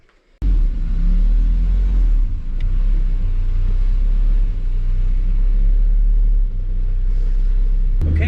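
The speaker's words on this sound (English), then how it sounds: "get it started up, get it warmed up, and we'll take it out for a spin" A car engine fitted with a GT35 turbo starts and runs, a loud deep rumble that holds steady with slight dips for several seconds, close up with no talk.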